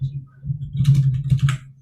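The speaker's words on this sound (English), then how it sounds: "y'all can hear the keyboard" Rapid clicking taps on a computer keyboard during a casual online talk show call, a short burst of keystrokes close to the microphone over a low steady hum.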